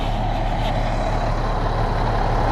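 A farm truck loaded with soybeans rumbles steadily up close, its engine a loud, unbroken drone with no talk over it.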